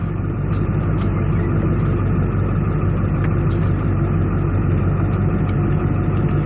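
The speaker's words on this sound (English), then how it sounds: "this is first start up after just getting done with that install. The truck's still cold" A Ford 7.3 Powerstroke diesel truck, still cold on its first start after an intercooler pipe install, idles with a loud, steady low rumble and diesel clatter throughout, close up with no talk.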